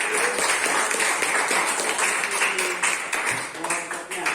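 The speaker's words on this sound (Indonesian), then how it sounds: "Bisa diberikan tepuk tangan untuk kelompok 5." A classroom group applauds group 5 after their presentation, a short burst of mixed clapping with a few sharper individual claps and some voices underneath.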